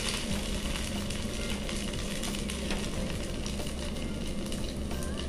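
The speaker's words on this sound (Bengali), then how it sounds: "ফ্লেমটা অন করে দিয়েছি, তেলটাও গরম হয়ে গেছে, এবারে কাবাবটা দিয়ে দিলাম।" Poha (flattened rice) kababs frying in hot oil on a gas flame, a dense, even sizzle that stays loud and close throughout, with no pauses.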